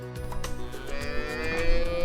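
Longhorn cattle on a ranch low their moos across a short stretch, a warm, harmonic lowing carried over steady farm background noise with no one talking.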